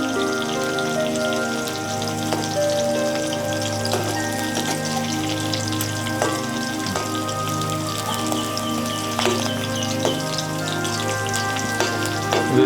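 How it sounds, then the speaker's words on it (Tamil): Bitter gourd frying in hot oil, with a steady crackling sizzle and scattered sharp pops of splattering oil throughout, close and fairly loud. "எண்ணெய் தெறிக்க போகுது."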